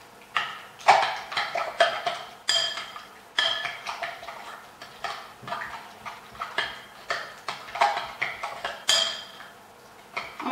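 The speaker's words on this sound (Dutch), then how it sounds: "Maar gewoon even door blijven roeren" A utensil stirs cupcake batter in a bowl, scraping and clinking against the sides in a steady, repeated rhythm of sharp taps, close and alone with no talk.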